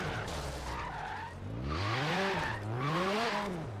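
A drift-built Mini in the racing game Forza squeals its tires through a sustained slide, loud and close, with the engine note rising and falling beneath the skid.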